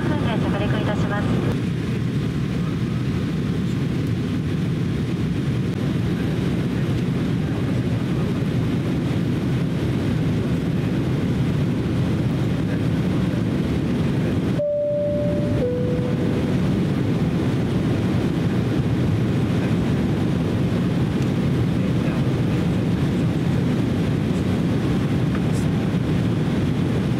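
JAL airliner cabin on approach to Fukuoka Airport, a loud constant engine and air rumble filling the whole span, broken midway by a two-tone chime, with a cabin announcement spoken over it.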